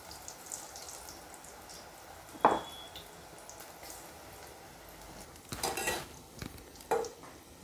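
Onion bhaji batter mixed in a bowl, with a few scattered clinks and scrapes of utensil against the dish, one sharp knock early on and a denser burst of mixing later, close and quiet, no voices.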